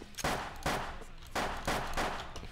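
Several bursts of rapid automatic gunfire from the online shooter game Wolfteam, loud and close, arriving in two clustered volleys with brief gaps between them.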